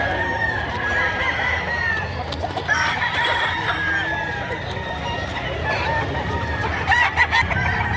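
Roosters and chickens at a poultry market in Padre Garcia, Batangas, with loud repeated crowing and clucking from several birds close by, all against a busy market background.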